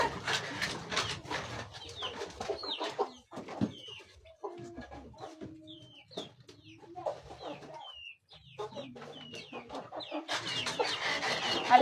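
Chickens on a poultry farm cluck and squawk in a steady, close flock chatter, with sharp individual calls rising above a busy, continuous backdrop; no talking.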